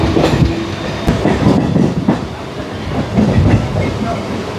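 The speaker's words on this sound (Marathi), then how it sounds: "CSMT रेल्वे स्टेशनच्या प्लॅटफॉर्म नंबर 6 वरून CSMT खोपोली फास्ट लोकल आता निघते" Mumbai CSMT–Khopoli fast local train pulling out of platform 6, loud close rumble with rhythmic clattering of wheels over rail joints and occasional sharp clanks.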